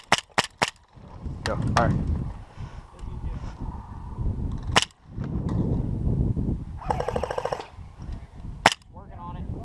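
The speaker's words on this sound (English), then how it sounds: "I'll try to just fire a few shots" Airsoft guns firing in an outdoor skirmish, several sharp single shots spaced apart, some in quick pairs, with players talking and rustling between them.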